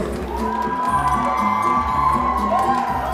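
An audience at an alternative fashion show cheers and whoops in a sustained, loud roar of crowd voices that carries steadily to the end.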